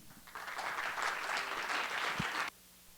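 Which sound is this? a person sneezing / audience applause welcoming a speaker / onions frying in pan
audience applause welcoming a speaker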